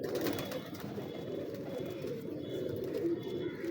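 Pigeons coo in soft, low, continuous murmurs, several birds close together with no talking over them.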